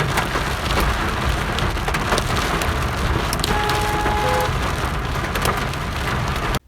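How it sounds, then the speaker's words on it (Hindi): Heavy rain pours steadily in Peshawar, a dense, loud and even roar of drops hitting surfaces, with occasional sharper patters and a faint tonal hum partway through before it cuts off. "क्योंकि बहुत ही ज़्यादा तेज़ बारिश थी"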